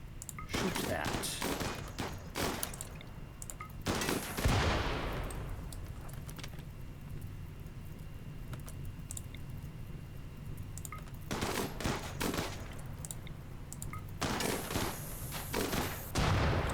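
Gunfire in the video game Rimworld comes in rapid bursts of sharp cracks near the start and end, with a calmer stretch between them and occasional soft talk over the top.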